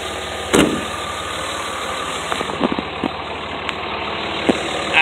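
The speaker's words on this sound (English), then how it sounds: "I'm gonna have to talk a little bit louder because diesels tend to be louder than normal" A 2004 Dodge Ram 2500 5.9-liter Cummins turbo diesel idles with a steady low rumble and faint knocking, punctuated by a few brief clanks and taps nearby.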